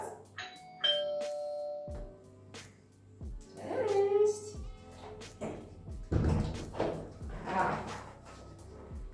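A doorbell chimes several times during an indoor dog-training session aimed at stopping barking at the door, with a trainer's voice speaking between and over the ringing and some household clatter.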